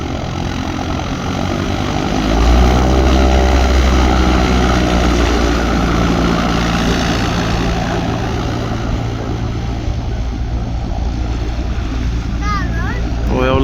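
Small propeller aircraft such as a Cessna landing at a former RAF airfield, a steady droning engine hum that holds throughout, loud and fairly close, with voices talking over it.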